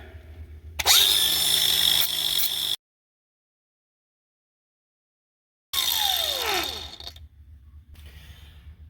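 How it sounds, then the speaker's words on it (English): Handheld power tool beveling the cut end of a pipe to remove the burr during a hose bib raising job: two loud whirring grinding bursts, the second winding down as the motor slows, with a silent gap between. "you need to bevel it, because there's a burr"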